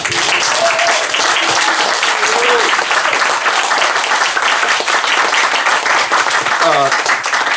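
A loud, dense round of audience applause at a Henry Threadgill event, sustained and even from start to finish, with brief voices and whoops cutting through near the end.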